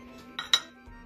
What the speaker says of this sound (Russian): достаем наши ароматные тыковки и выкладываем их на блюдо